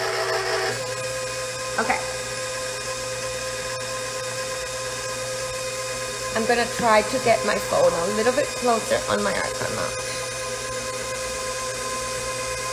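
An electric mixer stirs lemon royal icing with a steady, loud motor whine and hum running the whole time, while a voice talks over it partway through.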